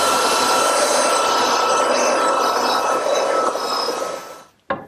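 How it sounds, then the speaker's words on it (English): A router shapes the edges of wooden cupboard parts with a loud, continuous whining roar that holds steady for several seconds, then cuts off abruptly before a single knock. "And now I use a router to do the edges."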